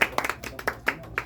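A church congregation clapping in distinct, loud bursts, a few separate hand claps spaced irregularly and close by, with no voices over them.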